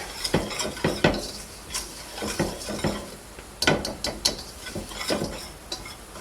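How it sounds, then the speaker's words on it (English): Flour and water shaken in an old jar make a rhythmic clatter and rattle of bursts, sloshing and knocking close by with short pauses between the shakes. "it's easier if you have an old jar, you know, and just do it and shake it in the jar"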